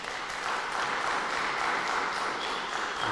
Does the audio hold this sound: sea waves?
no